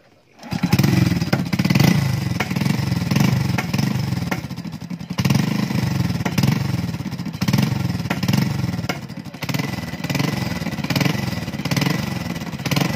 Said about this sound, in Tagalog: Tahimik na yung makina.